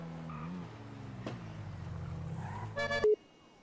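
Engine hum of cars in a video game rising and falling, ending in a burst of electronic game sounds.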